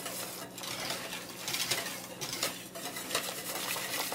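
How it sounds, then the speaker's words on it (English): A spoon scrapes and clinks around a pot of thickening pot-roast gravy in a quiet, uneven stirring rhythm, with a soft simmering hiss and no one talking. "You really want to make sure you keep stirring it while it thickens."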